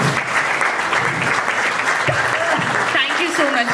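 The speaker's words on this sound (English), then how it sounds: "I think we should all stand up and give her a round of applause" An audience stands and applauds at a TEDx salon talk, a loud, sustained burst of clapping filling the room, with a voice or two briefly audible underneath.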